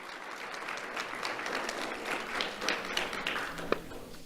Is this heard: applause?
yes